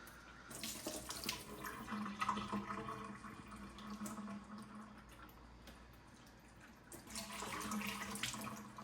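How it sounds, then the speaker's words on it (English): Beans being rinsed under a running kitchen tap, with water streaming and splashing steadily, swelling and easing as the beans are moved, quiet and nearby. "You don't necessarily have to rinse the beans, I just prefer to."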